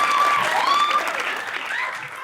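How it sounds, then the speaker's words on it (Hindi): Studio audience applause on a Pakistani television talk show, a dense, sustained round of clapping from a crowd that stays loud and even before easing slightly, with a voice faintly heard over it. "तालियां।"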